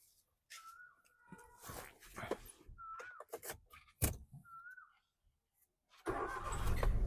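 A petrol Maruti Wagon R, a 2011 or 2012 car with LPG, cranks briefly and fires up on the first try, then settles into a loud, steady idle close by. Scattered bumps and clicks come before it.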